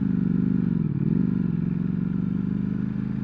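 A Ducati Panigale V4 motorcycle runs underway, its engine a loud, steady, throbbing drone that dips briefly about a second in before holding on.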